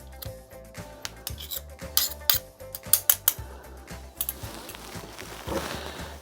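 Mint sauce and tomato puree are added to a lamb leg marinade in a bowl, with rhythmic clinking and scraping of a spoon against the bowl, close and fairly quiet, then softer mixing sounds with no talking.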